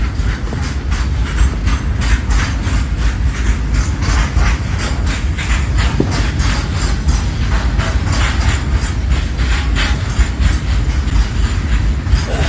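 A train rolls past close by at Kumta railway station with a steady rhythmic clatter of wheels over rail joints, loud and continuous, with no talking.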